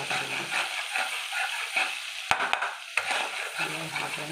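Spices sautéing in a pan for dhokar dalna, with turmeric and chili powder over fresh green chilies: a steady close sizzle broken by a few sharp clicks and scrapes of a spoon, no talking.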